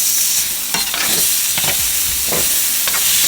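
Butter sizzling in a hot pan with melted garlic while being stirred for cheesy scalloped potatoes, a steady loud hiss broken by several scraping strokes of the utensil.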